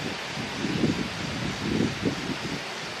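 Wind blowing through a park, a soft steady rush with a few gentle gusts swelling and fading, close to the microphone and with no voices.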